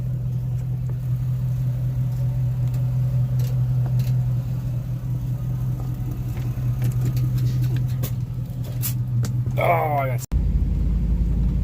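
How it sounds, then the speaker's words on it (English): A truck engine idles steadily with a low, continuous rumble and hum throughout, with someone speaking briefly over it, before the sound cuts off abruptly near the end. "we got the truck started"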